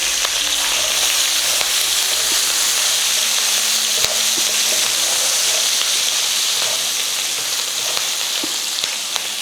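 Ginger, garlic and green chili sizzling in hot oil for a Kerala fish roast, a steady bright frying hiss with faint spatter and stirring, close and continuous without talk.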